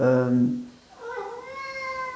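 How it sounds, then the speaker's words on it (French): A house cat meows insistently to be let outside, a loud drawn-out call followed by a higher, wavering meow close by, with a voice speaking faintly underneath. "mon chat veut sortir"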